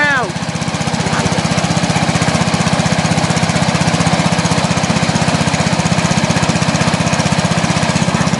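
A Briggs and Stratton engine on a riding lawn mower chugs steadily and loudly up close, with a fast, even firing rhythm throughout; voices talk over it.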